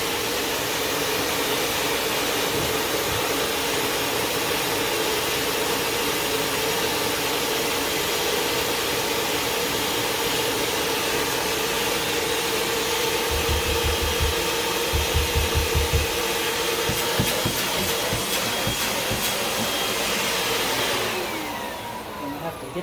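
A vacuum cleaner with hose and wand attached drones steadily and loudly throughout, a broadband whine with brief rumbling bursts near the end before it cuts down.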